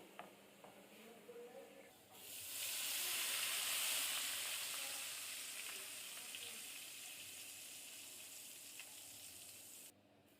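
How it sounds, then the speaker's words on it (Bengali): Chopped onions are dropped into oil left from frying potatoes and burst into a loud, continuous sizzle that slowly eases while staying steady, with a quieter hiss beforehand and faint stirring. "এবার আলু ভাজা তেলের মধ্যে দিয়ে দেব হাফ কাপ পেঁয়াজ কুচি। পেঁয়াজগুলো লালচে করে ভেজে নিব।"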